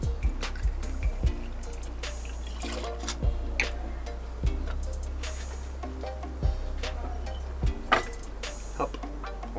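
Vodka poured in a 4-centilitre measure for a cocktail, heard as close, irregular drips and small splashes of liquid against a steady low background hum.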